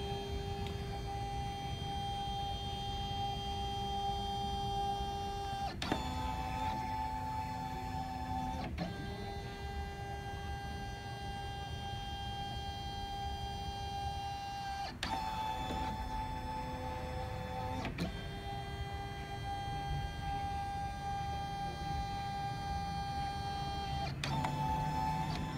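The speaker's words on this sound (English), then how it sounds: "it's gonna scan in my quilt block" Brother Dream Machine 2 embroidery machine scanning a quilt block held in its hoop, a faint steady electronic whine with sustained tonal hum, shifting pitch at a few points as the scanner moves.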